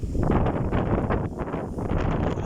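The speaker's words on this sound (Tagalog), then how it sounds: "lakas ng hangin ngayon ka behind" Strong wind buffets a boat in a steady, loud, rushing roar that fills the whole moment without pause.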